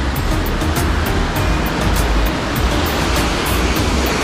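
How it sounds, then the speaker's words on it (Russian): Sea waves wash continuously onto Diamond Beach in Alanya, Turkey, in winter, a loud, steady surf roar close by with no talk. "Пришли мы к пляжу Даймонд."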